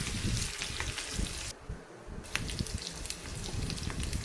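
Onions frying in oil for a cucumber chutney tempering, a continuous close sizzle that briefly dips in its hiss before resuming, with no talking.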